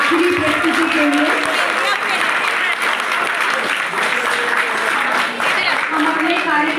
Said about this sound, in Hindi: एक बार जोरदार ताली हो जाए आखिरी प्रस्तुति के लिए।